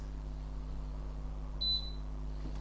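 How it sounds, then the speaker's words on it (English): An air conditioner gives a single short, high beep while pairing with a phone app, heard over a steady low indoor hum. "And it's just made a beeping noise."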